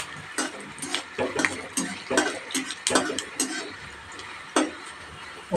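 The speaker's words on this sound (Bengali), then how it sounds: "হাফ টিস্পুন পাঁচফোড়ন, একটা শুকনো লঙ্কা অ্যাড করে নেড়ে দিচ্ছি।" Panch phoron and a dried chilli stirred in hot mustard oil over low heat, with soft spatula scrapes and taps against the pan over a light, steady sizzle.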